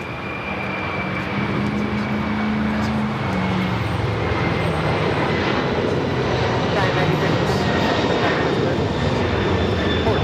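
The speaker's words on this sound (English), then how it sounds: "This is Atlas Air Flight 9013 taking off to Hong Kong" An Atlas Air Boeing 747-400 freighter takes off from LAX bound for Hong Kong, a loud continuous jet engine roar building and holding steady while a voice talks over it.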